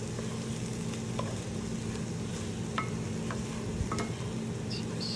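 Chicken and leeks sizzle steadily in butter in a high-sided pan while being stirred, a close, even frying hiss with occasional soft scrapes and ticks.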